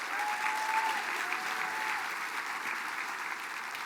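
A crowd at the Mille Lacs Band of Ojibwe State of the Band program applauds steadily for the full length, a dense, even wash of clapping heard from a moderate distance with no break.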